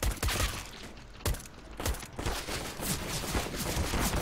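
Gunfire sounds in Counter-Strike as several sharp, close shots crack in quick irregular bursts over a busy game background.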